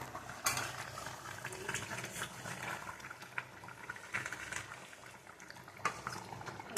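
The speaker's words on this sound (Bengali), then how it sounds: "টকবক করে ফুটছে" A pot of thin meat and potato curry with green chillies bubbles and simmers on the stove, soft irregular popping and gurgling with occasional faint clinks, quiet and close throughout.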